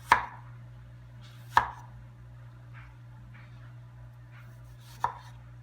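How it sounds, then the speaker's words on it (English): A knife slices peeled apples thinly for an apple pie, making three distinct sharp cuts against a board at uneven intervals, close and fairly quiet, with faint softer taps between them. "After peeling the apples, this is how I slice it. I just make thin slices on the apple."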